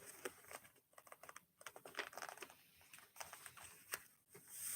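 Quick, uneven key taps on a computer keyboard, someone pecking out a butterfly's name in short bursts with brief pauses, close and fairly quiet, no talking over it.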